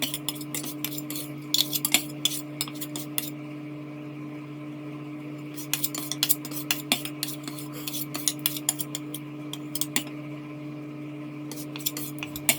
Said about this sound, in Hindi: अब इस पिघली चॉकलेट के 2/3 भाग को पत्थर के टुकड़े या किचन काउंटर पर डालकर जल्दी जल्दी उल्टे पलटें।